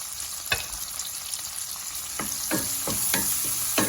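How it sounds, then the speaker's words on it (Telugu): Mushrooms seasoned with salt and turmeric fry in a pan with a steady close sizzle, broken by several sharp scraping stir strokes that come more often toward the end. "ఇది కొంచెం వేగనిద్దామండి."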